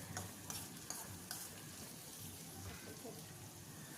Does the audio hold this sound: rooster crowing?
no